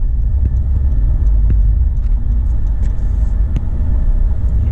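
Car driving north on the I-75 highway near the Mackinac Bridge in Michigan: loud steady road rumble and engine drone inside the cabin, constant throughout with faint occasional ticks.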